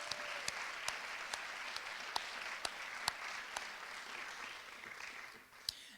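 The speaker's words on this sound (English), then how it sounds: "let's just give them another round of applause" A community audience at a strategic plan launch gives a steady round of applause for the sponsors, with dense continuous clapping and a few sharper, closer claps standing out. It lasts about six seconds and thins slightly at the end.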